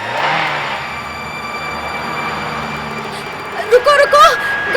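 A cartoon car engine runs steadily in an animated Hindi ghost story, a continuous hum and whir with people talking over it, then brighter chirping and squealing tones near the end.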